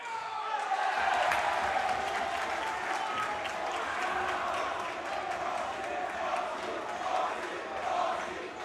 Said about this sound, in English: I can really feel the roar of the crowd right now